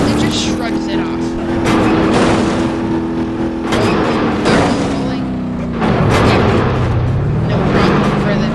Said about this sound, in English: And we can try going over a small jump. It just shrugs it off.